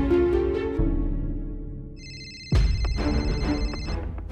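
A phone rings loudly and close by in a Marathi TV serial scene: a melodic ringtone plays, stops for a moment, then starts again as a bright, repeating electronic tone.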